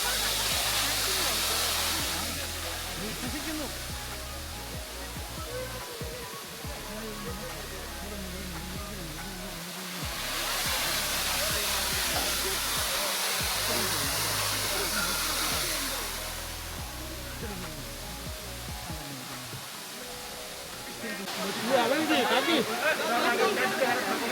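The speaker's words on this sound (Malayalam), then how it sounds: "പക്ഷേ ഇവിടെ ഉള്ളവർക്ക് ഇത് വലിയ വെള്ളച്ചാട്ടമാണ്." A small rainforest waterfall pours in a steady, broadband rush that swells and eases over about twenty-four seconds, with a louder, rougher surge near the end.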